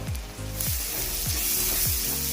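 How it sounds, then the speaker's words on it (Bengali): Onion, garlic and ginger paste, chili powder and turmeric sizzle in a pan for a mixed vegetable and egg curry, a loud, steady close-up frying hiss with a few soft repeated stirring sweeps underneath. "এবারে আমাদের ভালোভাবে মশলাটা ভাজা হয়ে গেছে"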